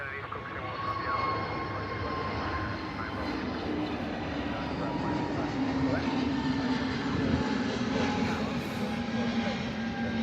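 An easyJet airliner at Manchester Airport, a distant steady jet engine rumble and whine rising slightly toward the end, heard under nearby background noise.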